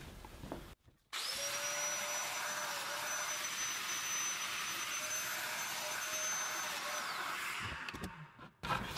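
A Festool Domino joiner cutting mortises in wood, with a steady high whining motor running for several seconds after a short silence and then spinning down.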